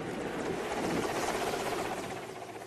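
Military helicopter in flight giving air support: a steady, fairly loud rotor roar with a dense churning texture that holds throughout and fades slightly at the end.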